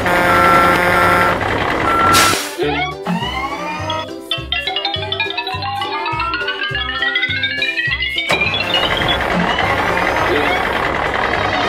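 A toy ice cream truck plays its electronic sound effect, a rising synthetic sweep over rhythmic engine-like pulses with beeping tones, loud and close, and a voice is heard speaking around it.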